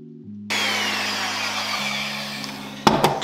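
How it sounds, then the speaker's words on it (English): Banana loaf batter being mixed in a bowl: a steady, fairly loud whirring, scraping rush that starts abruptly after a brief quiet hum and runs on unbroken, with a few sharper knocks near the end. "You just add it and then you mix."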